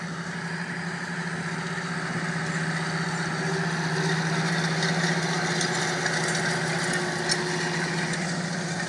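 A John Deere 8530 tractor engine drones steadily while drilling rape seed, a constant mid-level rumble with a faint rattle on top and no talking.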